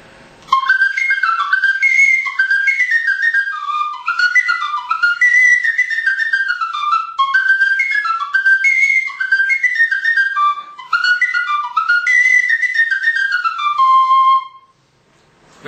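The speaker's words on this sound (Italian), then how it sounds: "il friscaletto in do è chiaro che si usa magari per le tarantelle" A bright, high-pitched Sicilian friscalettu flute in C plays a fast, lively tarantella-style dance melody with quick ornamented runs, loud and close, ending on a held note.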